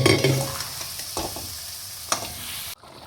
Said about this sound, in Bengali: এবার এই স্টকটা দিয়ে দেবো অল্প অল্প করে দেব সবটা একবারে দেবো না